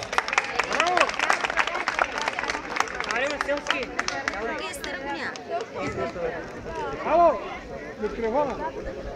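Audience applause for a singer at an outdoor town event in Sredets, loud sustained clapping from a crowd with cheering voices and babble mixed in throughout.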